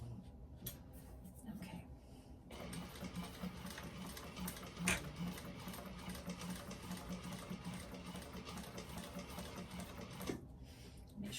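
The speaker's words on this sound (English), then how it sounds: "we're going to do 1/8 of an inch top stitch all along this inner edge here" Sewing machine running a continuous 1/8-inch top stitch along the inner edge of a Madeleine bag, a steady mechanical whir with brief pauses near the start and end.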